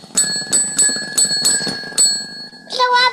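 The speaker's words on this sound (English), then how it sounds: "That's a bell, isn't it?" A small bell rings repeatedly in a steady rhythm, bright and close, about seven strikes, with a child's babble underneath and a different tinkly chime at the end.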